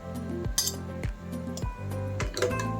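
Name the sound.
mussels being added to the pan while cooking carbonara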